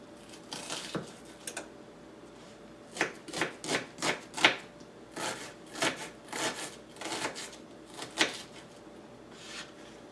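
A knife chops small onions on a board in a home kitchen, giving quiet, irregular clusters of sharp taps with brief pauses between runs.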